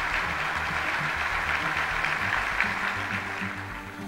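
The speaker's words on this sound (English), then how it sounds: "Give yourself a round of applause." Audience applause at a motivational speaking event, a dense, steady wash of clapping that carries at an even level from start to finish, with no voice standing out above it.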